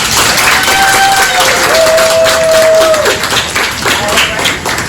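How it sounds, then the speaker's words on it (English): Conference audience applauding its speakers: a dense wash of clapping from a crowd, loud and sustained throughout, with voices talking and calling out over it. "If we can give another round of applause for our speakers."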